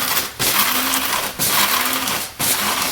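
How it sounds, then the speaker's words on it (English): A small coffee grinder grinds peanuts in three loud bursts separated by brief pauses, each burst a harsh buzzing grind of dry pieces. "We just use a coffee grinder to grind up our peanuts."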